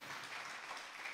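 A church congregation applauds during a midweek worship service, a steady, dense wash of clapping from many hands that holds at even loudness throughout, with no talking over it.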